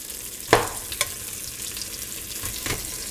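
Onions brown in a pan with a continuous frying hiss. Two or three sharper clicks of a utensil against the pan stand out near the start. No speech.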